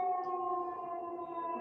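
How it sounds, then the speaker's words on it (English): A loud siren holding a steady, sustained wail with strong harmonic tones, continuous and unbroken. "that's just like one of those big sirens"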